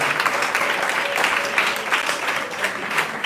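Steady applause from a crowd, dense clapping throughout at an even, moderately loud level with no voices on top.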